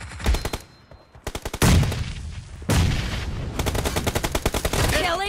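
Rapid gunfire bursts from PUBG Mobile, loud and close, with automatic rattles broken by short gaps and a few heavier single shots, and brief in-game voice callouts mixed in.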